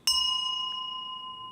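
A single bell is struck once during a Buddhist sutra lecture, giving a sharp metallic strike and then a long, clear ringing tone that fades slowly.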